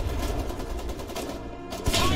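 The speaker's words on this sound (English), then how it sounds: "Shooting now. Good effects. Fire for effects." Rapid bursts of gunfire and artillery from the war game Foxhole crackle in a dense, steady fusillade, with a heavier boom near the end and a faint voice mixed in.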